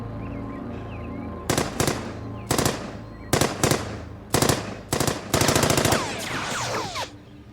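Sniper gunfire in an action movie scene, sharp cracking shots arriving in quick bursts of two or three, then a longer rapid volley near the end, loud and close against a quiet background.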